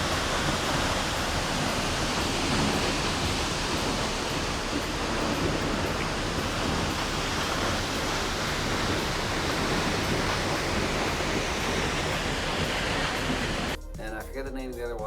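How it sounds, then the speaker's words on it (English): Vernal Falls in Yosemite roars as a steady, loud, broadband wash of falling water close by, unbroken for most of the clip, with a voice briefly speaking over it at the very end. "I saw the Vernal Falls."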